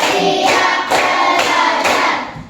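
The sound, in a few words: class clapping a rhythmic clap pattern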